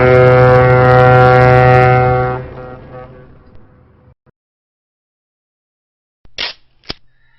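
A long, deep ship horn blasts loudly for about two seconds and fades away, followed by silence and then two sharp knocks.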